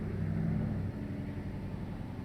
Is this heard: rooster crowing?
no